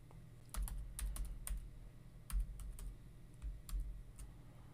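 Password typed on a computer keyboard in short, quiet clusters of key clicks separated by brief pauses, close and alone with no talk.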